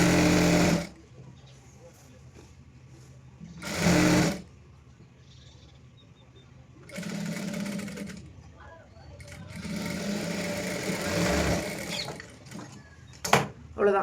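A sewing machine stitches a seam joining the waist of a ready-made dress, in several short, clear bursts of mechanical whirring separated by pauses, with a voice talking between bursts.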